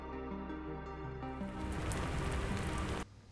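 Rain begins falling in an animation of a karst landscape, a dense hiss of drops building over a low tonal backdrop and ending abruptly.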